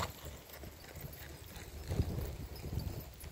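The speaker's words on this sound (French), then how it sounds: "attention, on est parti au trot. Trot levé." Horse hooves trot in a riding arena during a trotting lesson, a rhythmic clip-clop over soft ground, moderately near and fairly quiet against a dull background rumble.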